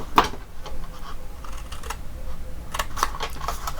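Scissors cut down through paper box flaps, giving sparse, close, crisp snips and clicks: a sharp one at the start and a couple more near the end over a faint rustle.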